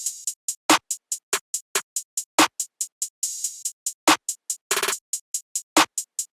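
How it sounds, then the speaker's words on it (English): Simple open hi-hat pattern in a trap beat, the open hats ringing at regular intervals among rapid closed-hat ticks and punchy snare hits, with a brief stuttering burst near the end, crisp and upfront without any talking. "I laid down this pretty simple open-hat pattern"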